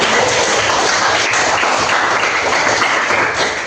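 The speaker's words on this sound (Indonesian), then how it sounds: "Tepuk tangan untuk kita semua." Indonesian classroom of students applauding together, dense continuous clapping close by for a few seconds without a break, no talk over it.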